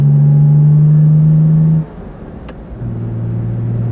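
A 1953 Mercedes 300 S Cabriolet driving along country roads in the Bavarian Alps, its engine droning with a strong low hum that drops off midway, then returns at a lower, steady pitch as the car rolls on.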